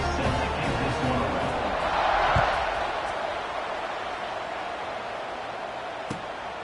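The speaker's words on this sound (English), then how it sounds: "this place is rocking. Night games are always so loud, so obnoxious, and these fans, they get something to cheer about" Crowd roar filling a football stadium during a night game between Penn State and South Carolina, a steady dense wash of cheering with a swell near the middle and a sharp thump later.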